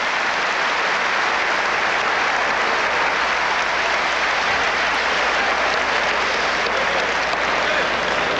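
Steady, dense applause from a college basketball arena crowd at Michigan versus Iowa in 1993, sustained and loud throughout as an injured player sits up on the court.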